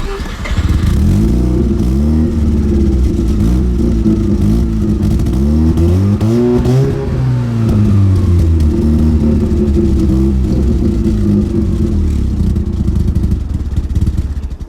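Mazda RX7 rotary engine starting and revving, with rough, uneven throttle blips that rise and fall but never settle into a steady idle, loud and close.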